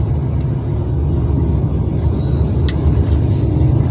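A car driving through road tunnels between Georgia and Russia, producing a loud, steady low roar of engine and tire rumble echoing around the vehicle, continuous throughout with no talking.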